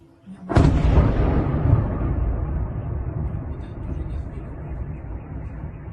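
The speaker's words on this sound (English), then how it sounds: "Explosions kept going off non-stop" A single sudden, heavy blast from a drone strike on Zelenograd near Moscow, followed by a long, rolling rumble that slowly fades, heard from a distance outdoors.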